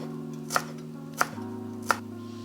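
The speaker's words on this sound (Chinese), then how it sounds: "接下来我们来切叶子的部分，叶子的部分尽量把它切碎。" Knife chopping rolled-up leaves finely for a seafood spaghetti garnish: three sharp, evenly spaced chops sound close and crisp over a steady low kitchen hum.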